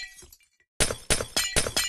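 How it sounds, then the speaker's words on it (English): Ice blocks breaking in Minecraft: after a faint quiet lead-in, four sharp glassy shattering cracks land in a quick, evenly spaced sequence, loud and close. "It's breaking ice blocks."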